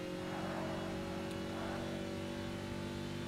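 Car engine from the Forza Motorsport racing game, a steady mid-pitched drone with layered harmonic tones holding level throughout, continuous and fairly quiet with no talk.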